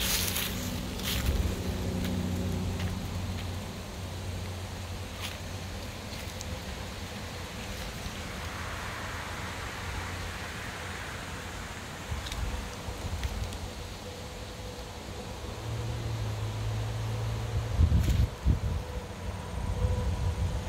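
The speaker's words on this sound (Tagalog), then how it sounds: "malakas ang hangin." Steady roar of strong autumn wind rushing through tree foliage in Gilman, Connecticut, continuous and fairly loud throughout, with a few rustling gusts and low rumbles near the end.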